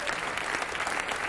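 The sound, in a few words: audience applauding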